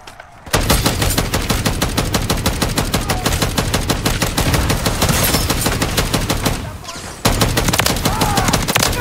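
Sustained rapid automatic gunfire in the Modern Warfare 3 zombies mode, loud and continuous bursts with a brief gap near the end before firing resumes.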